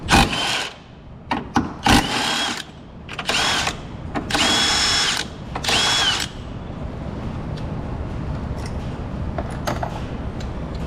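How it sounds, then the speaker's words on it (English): Power tool, likely an impact driver or drill, spins off the 16mm engine mount bolts on a 2020-2024 Nissan Sentra, loud close bursts repeating in short runs during the first half, then quieter clicks and handling noise. "remove our engine mount to our 16mm. There are 3 bolts."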